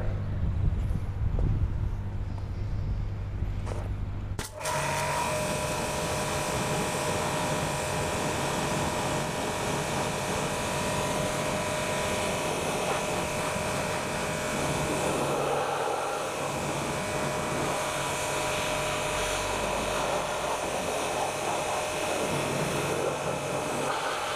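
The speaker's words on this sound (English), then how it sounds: "We can turn the pressure washer on" A pressure washer rinses a car during a non-contact exterior pre-detail wash, including the wheels. After a brief, different noise, a loud, steady, continuous hiss of spraying water takes over and runs unbroken to the end.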